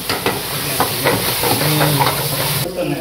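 Fresh mushrooms and mixed vegetables sizzle loudly in a hot pan in a hotel kitchen while a utensil stirs them with repeated scraping strokes over a constant frying hiss.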